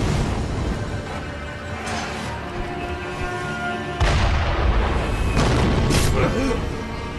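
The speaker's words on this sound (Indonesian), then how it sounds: "Ada suara tembakan" Heavy booming gunfire and blasts from the game Sekiro: Shadows Die Twice, dense and continuous, with a sharp loud burst midway followed by more rapid shots.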